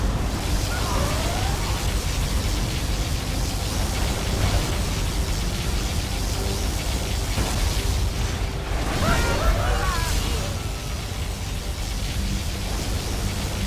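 A sustained, roaring wash of noise from a particle cannon blast in Command & Conquer Generals Zero Hour, a constant loud rumble with faint swooping tones, heavy and unbroken throughout.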